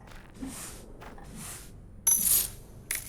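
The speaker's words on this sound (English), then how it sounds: "And if you see the coins dropping, you're just lucky." Coins drop in a video game with several bright, chiming bursts at uneven intervals, the loudest near the end, against a quiet background with no talking.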